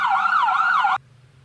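Fire truck siren in a children's toy truck cartoon: a loud wailing tone that rises and falls in two quick sweeps, then cuts off abruptly into near silence.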